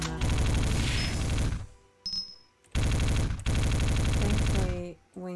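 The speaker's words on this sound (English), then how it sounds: "when you're shooting with the wave gun" The wave gun in Magic Potion Millionaire fires in long, loud, buzzing bursts of rapid pulses, broken by short pauses and a few brief chirping game sounds.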